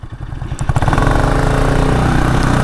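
Bajaj Pulsar RS200 or Yamaha R15 V3 sports motorcycle engine revving hard under acceleration at a drag race, a loud, steady, rising roar close by with no talk over it.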